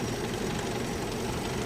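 A pre-war Rolls-Royce engine idles after a cold start, a steady, even low rumble with a fine rapid ticking texture, close and continuous with no talk.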